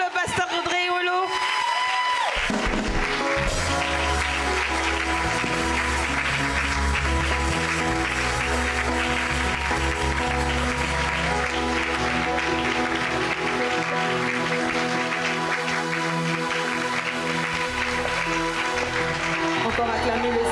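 A church conference crowd applauds and cheers for a pastor, sustained clapping and shouts continuing steadily under loud music throughout.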